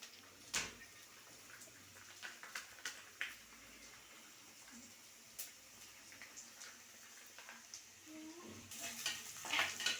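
Onions and tomatoes frying in oil in a pan for papaya sambar, a quiet sizzle with scattered scrapes of a stirring spoon that turns louder and busier near the end, no voices.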